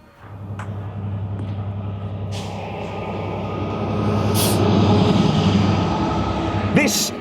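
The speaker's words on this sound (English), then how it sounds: "This is the Heathrow fuel train." A fuel train serving Heathrow rolls past on a railway with a loud, sustained low rumble that swells toward the middle and is punctuated by brief metallic squeals, while someone talks over it.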